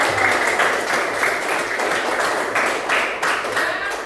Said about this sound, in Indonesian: Tepuk tangan untuk Puput.